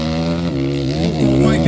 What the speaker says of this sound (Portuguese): Vem acelerando o forte o piloto de Jami